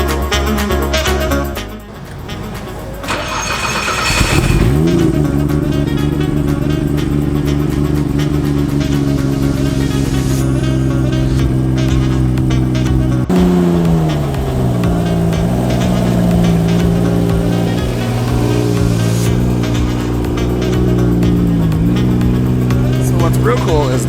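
A built R34 Nissan Skyline GT-R M-Spec with a Mines crate motor pulls away and revs at an open house, its engine droning loud and steady throughout with harmonic pitch swells as it accelerates, talk faintly mixed in.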